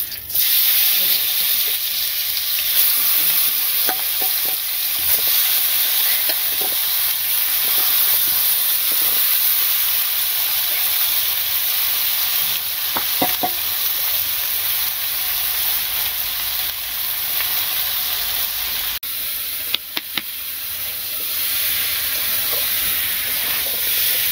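Chicken meat frying in hot oil with bay leaves in a village kitchen gives a steady, loud sizzling hiss throughout, with a few faint clinks and brief sharp pops near the end.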